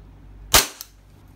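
One sharp, loud crack from a Glock 23 airsoft pistol fired semi-auto, then a faint softer echo or click just after, with quiet around it.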